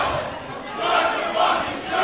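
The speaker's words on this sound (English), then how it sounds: "you can listen to the crowd" A Halloween party crowd cheers and shouts in a dense, continuous roar of many voices, loud and close, swelling slightly over the couple of seconds.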